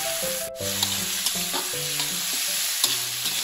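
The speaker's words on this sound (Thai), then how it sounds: "ใส่แล้วก็ผัดให้หอมเลยนะครับ ให้เครื่องในของเราสุกดีเลย" Offal stir-fried with chili and garlic in a hot pan, a dense continuous sizzle under repeated metal spatula clinks and scrapes, close and busy throughout with no speech.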